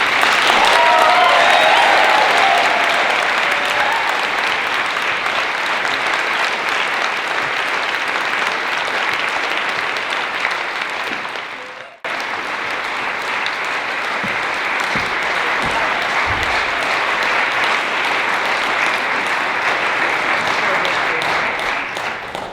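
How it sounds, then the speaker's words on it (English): A large audience gives sustained, dense applause welcoming Winona LaDuke to the stage, steady and loud, with a brief dip partway through before the clapping continues. "please give a warm round of applause and show some love for Winona LaDuke"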